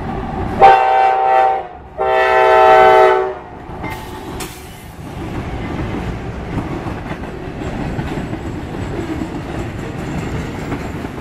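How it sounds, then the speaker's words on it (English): A loud freight train horn sounds in two long blasts in Batavia, New York, followed by the steady rumble and clatter of rail cars rolling past. "they gave us a nice little horn show and the conductor wave"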